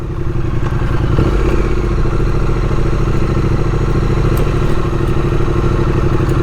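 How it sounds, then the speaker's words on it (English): A motorcycle rides over cobblestone streets in Philadelphia, its engine droning loud and close with a continuous rumble, overlaid by steady clattering and jolting from the rough paving. "This bike actually handles cobblestone very well."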